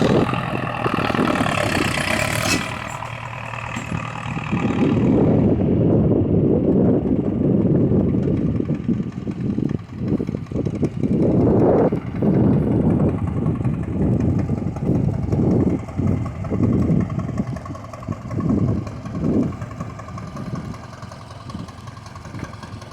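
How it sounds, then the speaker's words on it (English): A John Deere logging machine's engine runs steadily at a timber harvest landing, with surges in revving and load over a broad, continuous mechanical rumble; no talking. "Can't think of a better way to just listen to that John Deere."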